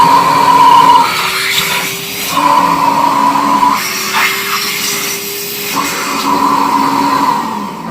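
A Bissell Bark Bath pet cleaner runs close and loud with a strained, clogged-sounding whine that rises and dips in uneven surges over several seconds, with no talking.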